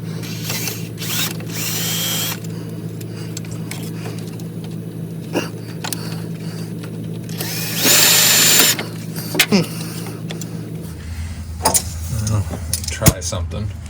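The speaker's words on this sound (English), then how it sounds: "This drill bit maybe a little too small," A power drill whirs steadily for several seconds while drilling metal on a Ford L9000 truck, with a louder high-pitched burst midway, then winds down under a low engine-like hum.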